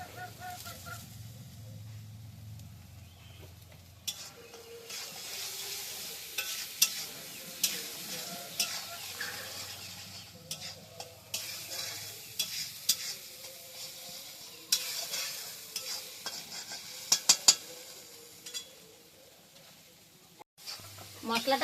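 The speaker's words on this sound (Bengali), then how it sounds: "মশলাটা কষে গিয়ে তেল ছেড়ে দিয়েছে" Spice paste with turmeric and salt stir-fried in oil for a small bata fish curry, a soft sizzle with intermittent spoon scrapes and stirs, fairly quiet, with a voice speaking at times and faint background noise.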